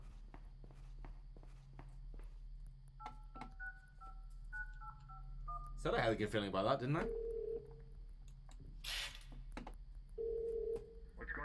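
A phone is dialed and rings in a Krampus video game: footsteps patter, a string of dial tones beeps, and ringing tones follow. A voice speaks loudly in the middle of the sequence.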